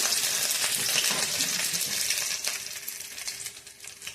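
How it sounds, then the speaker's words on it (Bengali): Dried chili and garlic sizzling in hot oil, a dense, steady crackle and hiss of frying for a few seconds that softens slightly toward the end, close by with no talk. "তেল গরম হয়ে গেছে, শুকনো লঙ্কা ছেড়ে দিলাম, রসুন ছেড়ে দিলাম"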